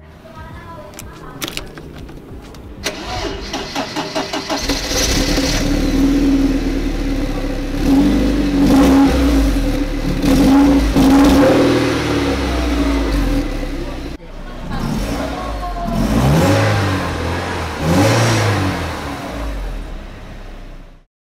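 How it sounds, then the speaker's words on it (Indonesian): Porsche 968 Turbo S engine starting, then revving repeatedly in loud, close bursts that climb and fall, with brief talk at the start. "sekarang kita akan nyalakan mesinnya"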